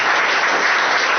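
A church congregation bursts into loud, dense applause, close and unbroken for the whole brief stretch.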